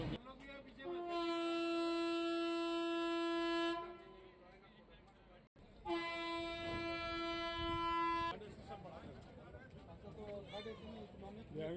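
Anand Vihar Express at Chaibasa railway station sounds its horn in two long, loud blasts separated by a short gap, over the rumble of the train. A voice talks over the horn.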